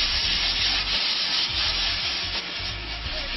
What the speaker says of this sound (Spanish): La lijadita del MDF debe ser en forma circular.